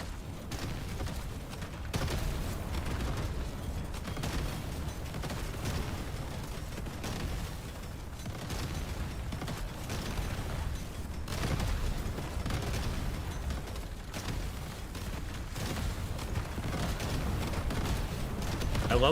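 Explosions rip across the battlefield in the video game Deep Rock Galactic Survivors, a dense, nonstop barrage of booms and crackling blasts layered into a loud, continuous roar.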